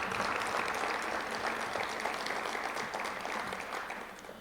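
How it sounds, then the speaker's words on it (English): An audience at a high school football signing event applauding steadily for several seconds, a dense even wash of clapping in a room that tapers slightly toward the end. "So please give them a round of applause"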